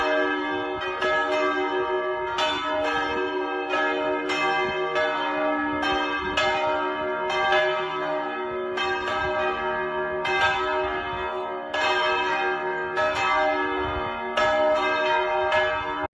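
Carillon bells played as a melody, clanky and somewhat uneven: a series of bright, ringing bell strikes in a steady rhythm with overlapping sustained tones, fairly loud and close, with no speech.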